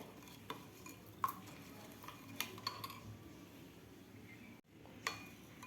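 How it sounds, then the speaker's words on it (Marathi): A spoon stirs jaggery in a pot to dissolve it, giving quiet scraping swirls with a scattering of light metallic clinks and taps against the sides, then a brief pause. "व्यवस्थित आपल्याला हलवून घ्यायचं आहे म्हणजे मग व्यवस्थित गूळ लवकर विरघळून जातो"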